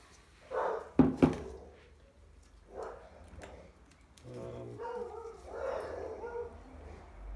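Neighbouring dogs bark next door during work on a Honda CT90 engine, a scatter of barks and yelps over several seconds at moderate distance, one pair of loud barks early on.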